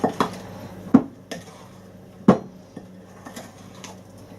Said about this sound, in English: I want to use this spoon because I'm going to cut and fold it in